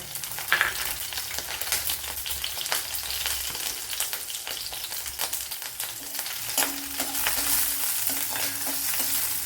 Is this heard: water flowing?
no